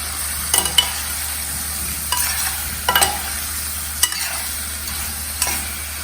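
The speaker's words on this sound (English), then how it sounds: "Saute it a little bit" Potatoes sauteing with salt in a pan as a dry vegetable dish, with a soft steady sizzle broken by several clattering stirs of the spoon against the pan, close and fairly loud, no talking.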